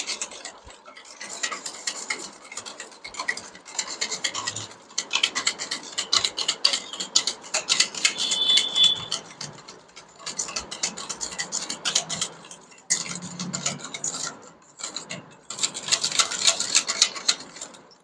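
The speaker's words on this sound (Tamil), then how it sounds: "நல்லா மிக்ஸ் பண்ணிக்கோங்க." Eggless chocolate walnut brownie batter with condensed milk and butter is stirred in a bowl, giving close, continuous wet tapping and scraping strokes in uneven bursts.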